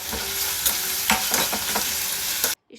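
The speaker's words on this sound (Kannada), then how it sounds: "ತುಂಬ ಏನು ಫ್ರೈ ಮಾಡೋಕ್ಕೋಗಲ್ಲ ನಾನು" Chopped onion, tomato and capsicum sizzle and crackle in a hot pan with curry leaves, loud and close, with steady stirring scrapes; no one speaks.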